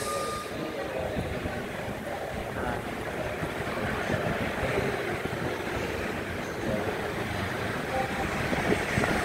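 Strong wind roars steadily ahead of a typhoon near a tall building at night, a broad, constant gusting rush close to the microphone with no break for the whole stretch.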